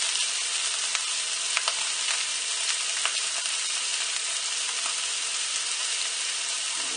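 Scallops pan-searing in lemon butter give off a steady, loud, close sizzle and crackle, with small pops scattered through it and no voices.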